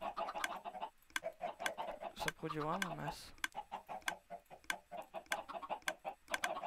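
Chickens cluck on a chicken farm in the video game Minecraft, giving rapid, repeated short clucks in a steady pattern with one drawn-out squawk in the middle. Someone speaks in French over them, and the clucking stays clear and close.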